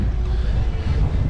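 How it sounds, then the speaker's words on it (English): Steady, loud wind buffeting a microphone outdoors on a cold day, a continuous low rumbling roar with no breaks across the short stretch. "It's windy."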